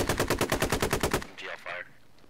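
Rapid burst of grenade launcher fire in the military shooter game Squad: about a dozen evenly spaced loud thumps over a second, followed by fainter distant blasts.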